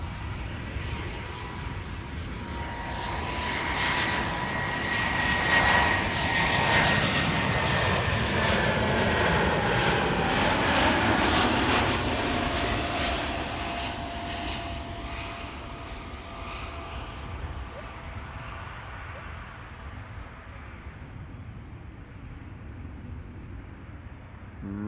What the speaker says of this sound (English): Lufthansa 988 arriving from Frankfurt is next